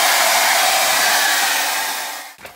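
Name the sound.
hair dryer running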